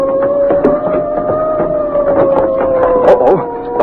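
A police boat siren sounds in a steady, wavering tone continuously at moderate distance, with scattered clatter and brief voice-like bursts over it.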